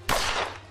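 A single gunshot from the tactical video game Achtung! Cthulhu Tactics: one sharp, loud crack with a short ringing tail that fades within about half a second, heard alone with no talk.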